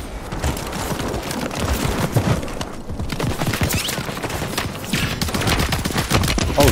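Rapid automatic fire from an HRM-9 submachine gun in a first-person shooter, dense and continuous bursts crackling loudly for several seconds with no pauses.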